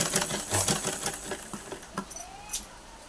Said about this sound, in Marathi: तर यातून आपल्याला डबल शिलाई करून घ्यायची आहे